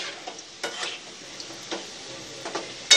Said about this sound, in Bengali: এইভাবে ভেজে নিতে হবে, এইভাবে আমি সবগুলো পিঠা ভেজে নেব